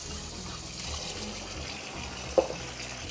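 Cold water runs over cooked rice in a colander as it is rinsed to wash out starch and salt, a soft steady trickle and splash, fairly quiet, with one brief clink partway through.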